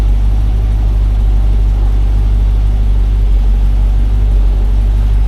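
A 1989 Range Rover Vogue SE engine idles steadily and loudly up close, a constant low rumble with no speech over it.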